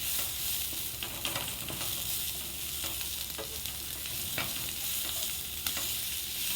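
Coriander chutney ingredients with tamarind sautéing in a pan, a constant close sizzle with repeated light stirring scrapes and taps, no voices.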